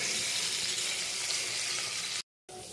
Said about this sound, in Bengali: এর মধ্যে নুন আর হলুদ দিয়ে ভাজছি পটল আলুগুলো